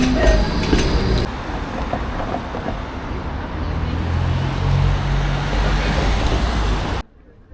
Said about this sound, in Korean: 트램이 많이 다니네요